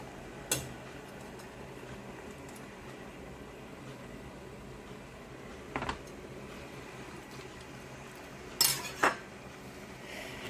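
A few sparse metallic clinks of a knife and fork against a dish while handling cabbage leaves, spaced apart in a quiet room with a low background hum.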